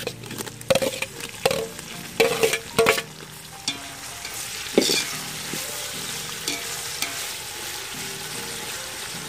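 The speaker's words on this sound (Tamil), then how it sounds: "இப்போ தக்காளி சேர்த்துக்க போகிறோம்." Tomatoes fry in a pan with golden onions for homemade dum biryani, a steady sizzle broken early by several loud scraping stirs, then settling into even frying.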